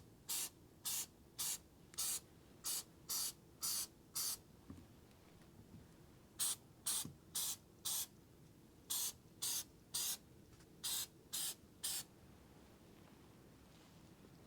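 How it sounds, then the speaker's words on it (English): An aerosol spray can hisses in about twenty short, evenly spaced bursts along the pinch welds of a Ram 1500 DT truck, loud and close with no talking. "We're going to spray some on the edge here and along the welds,"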